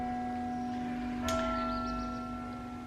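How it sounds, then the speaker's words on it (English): Church bells ring in Germany, a steady sustained bell tone with one brighter strike partway through, heard at moderate distance over a constant low background hum. "I'm in Germany right now with the bells."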